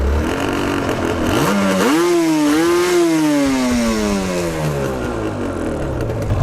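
A 1985 Yamaha TZR 250 two-stroke motorcycle engine warming up, close and loud, idling with a raspy buzz, then rising in a couple of revs that fall away into a wavering, slowly settling drone.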